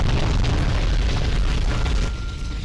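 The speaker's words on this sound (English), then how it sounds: "Explosions!" Loud, continuous explosion blasts boom and rumble in Grand Theft Auto: Vice City, a dense roar of bursts sustained throughout before easing slightly near the end.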